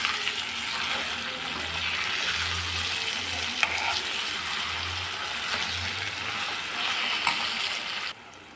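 Brinjal curry sizzles and fries in a pan while a spoon stirs it, giving a steady hiss with soft scraping and a few clicks, close by and without talk.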